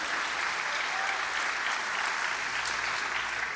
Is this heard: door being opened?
no